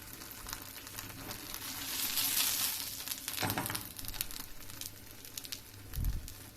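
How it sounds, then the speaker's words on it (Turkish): Börek pastry fries in a pan, cooked on both sides, with a steady close sizzle and crackle throughout. A couple of soft clatters from the pan or utensil rise above it, with no speech. "Bu şekilde arkalı önlü böreğimi pişiriyorum."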